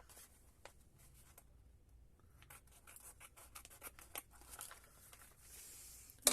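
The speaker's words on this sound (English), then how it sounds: "My bigger scissors." Scissors snip through junk mail paper in a quick run of faint, crisp cuts and rustles, close by and quiet, with no talk.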